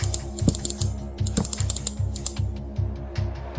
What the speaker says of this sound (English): Sorry about my clicking, if you can hear it.